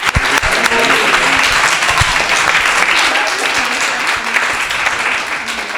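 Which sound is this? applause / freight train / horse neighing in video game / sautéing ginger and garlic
applause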